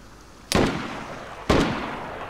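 Two sharp gunshots from DayZ ring out about a second apart, each a loud close crack with a short echoing tail, over a quiet background with no talk.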